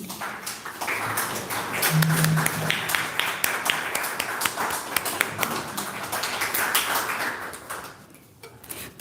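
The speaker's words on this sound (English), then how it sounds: "A round of applause, please." An audience at an academic gathering applauds during a shawl presentation. Sustained clapping from many hands fills the room for most of the clip, then thins out and stops near the end.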